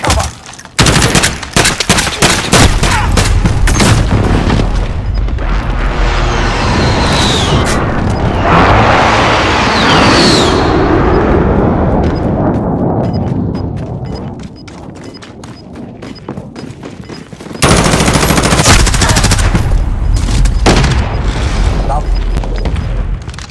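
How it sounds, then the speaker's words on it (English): A Call of Duty: Modern Warfare battle erupts with dense, rapid gunfire bursts and heavy booming impacts from an enemy precision airstrike, loud and close, easing briefly into a rumbling lull before the firing resumes. "Enemy precision airstrike, take cover!"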